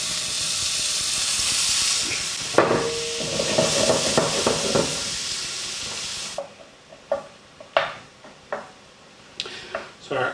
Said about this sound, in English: I'm going to go ahead and add my onion down into the pan.